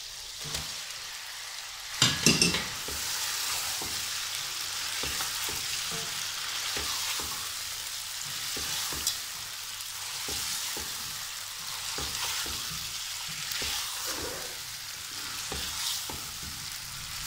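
Chicken and tomatoes stir-fried in a pot for chicken pulao, giving a steady loud sizzle with scraping and clattering stirs, a sharper burst of clatter near the start.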